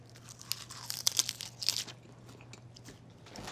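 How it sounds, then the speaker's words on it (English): Raw broccoli rabe is bitten and chewed up close, with a few crisp crunches clustered early on before fading to quieter mouth sounds. "you wanna taste a random piece"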